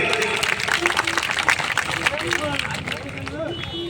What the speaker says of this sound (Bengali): সকলে একটু জোরে করতালি।